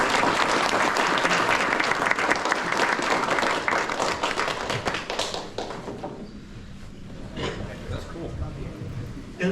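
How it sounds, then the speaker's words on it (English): A meetup crowd at a Melbourne Python gathering claps loudly for several seconds, then the applause thins and fades out, leaving scattered claps and some talk. "once again, let's give Billy a round of applause"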